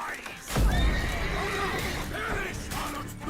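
A horse whinnies loudly in The Witcher 3 during a battle, with the neigh rising above shouting combatants and hoof clatter, the fight noise continuing around it.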